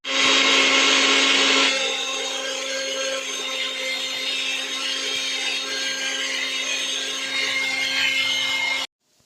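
A kitchen mixer grinder blitzing chicken masala into a fine paste, a loud continuous motor whine that drops slightly in pitch after a couple of seconds, running steadily before cutting off abruptly near the end.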